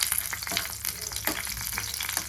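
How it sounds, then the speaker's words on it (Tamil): Steady crackling and popping of bread frying in hot ghee, dense and continuous throughout, close by. "வெடிக்குது டப்பு டப்பு டப்பு டப்புன்னு."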